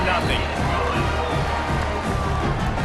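Steady roar of a stadium crowd cheering in a college football video game, UTEP versus Western Kentucky, right after the opening touchdown and extra point, loud and continuous with babble throughout.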